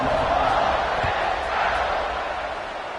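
A football stadium crowd at an Ole Miss game roars in a broad, continuous wash of cheering just before a kickoff, loud and sustained for the whole stretch.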